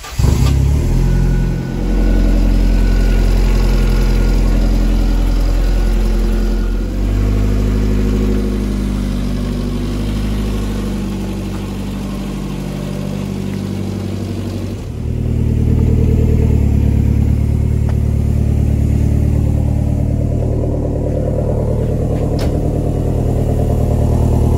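Ford Sierra RS Cosworth 4x4 with a full exhaust from the turbo to a Mangus tail section, its engine idling loud and close with a deep, lumpy rumble and a few revs that swell and dip throughout.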